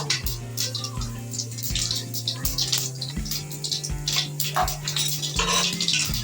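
Whole mustard seeds and cumin are stirred in a pan with a utensil, making repeated metallic scrapes and clinks at a steady rhythm. A continuous low hum and a faint sizzle sit underneath.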